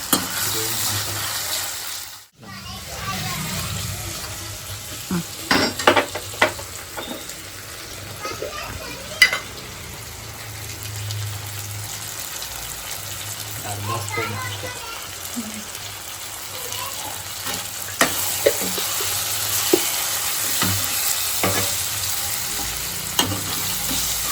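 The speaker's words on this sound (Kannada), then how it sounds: "ಟೊಮೊಟೊ ಮತ್ತು ಶುಂಠಿ ಬೆಳ್ಳುಳ್ಳಿ ಪೇಸ್ಟ್ ಎರಡು ಹಸಿ ಸ್ಮೆಲ್ ಹೋಗೋವರೆಗೂ ಚೆನ್ನಾಗಿ ಫ್ರೈ ಮಾಡಬೇಕು." Tomato and ginger-garlic paste fry in a pan for egg masala, a soft, continuous sizzle with occasional stirring clatter, while voices are heard intermittently in the background.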